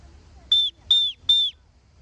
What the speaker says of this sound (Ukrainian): Зараз буду кликати свисточком.